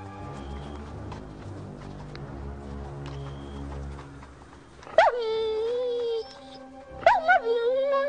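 A dog gives a couple of sharp, high yips and whines close by, following a stretch of background talk and movement.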